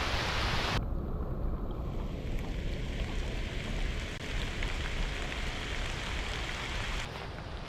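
Rain falls steadily in a forest, a soft, even hiss that holds across the whole stretch, fairly faint and without voices.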